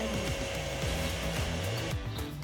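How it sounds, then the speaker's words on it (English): Wooden countertop being sanded with super fine sandpaper, a steady faint motor-like hiss with a repeating low sweeping rhythm of back-and-forth passes, heard alone. "go back over the countertop one more time with some super fine sandpaper to make sure that we ended up with a buttery smooth finish"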